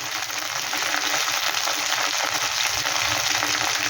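Spices with cumin powder frying in a pan, a dense continuous sizzle heard up close, steady and unbroken, with faint stirring underneath.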